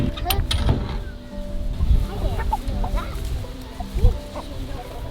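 Several chickens in a breeding flock of two roosters and six hens cluck and murmur close by in short, uneven bursts, with a steady low background rumble.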